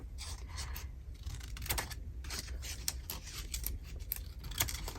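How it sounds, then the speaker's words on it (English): Scissors cut paper while a Christmas journal with window pockets is being crafted, giving a string of quick, light snips and rustles at close range, with no talking. "I could probably even use the bigger scissors for these bits"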